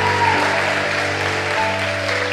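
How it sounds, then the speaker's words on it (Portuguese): Worship congregation clapping steadily and loudly throughout, with sustained organ or keyboard chords ringing underneath. "Se é para Jesus, aplaude,"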